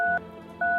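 Two steady dual-tone phone dialing beeps from a video game, each about 0.2 seconds long and separated by a short pause, clear and loud over a faint background hum.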